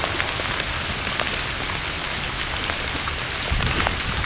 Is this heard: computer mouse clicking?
no